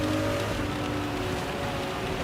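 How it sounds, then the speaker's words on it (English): Steady downpour of rain in a racing video game, a dense constant hiss with a low hum of engine tones beneath, continuous and fairly loud throughout. "Because it is pouring down."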